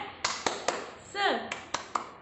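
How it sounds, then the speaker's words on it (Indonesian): A teacher leads young kindergarten children in a rhythmic classroom clap chant, with six sharp evenly spaced claps, a brief voice between them, in a near, moderately quiet room. "sekarang kita mau tepuk semangat"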